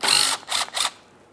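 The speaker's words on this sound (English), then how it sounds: "We can remove that bolt." A ratchet wrench backing out a bolt on the radiator shield of a 2013-2020 Ford Fusion 2.0L: three quick, close ratcheting bursts, then quiet.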